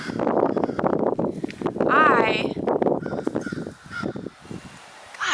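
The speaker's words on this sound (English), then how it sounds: "Gosh, those crows are loud." Crows cawing loudly near a side garden, harsh repeated calls heard over and between a person speaking close by.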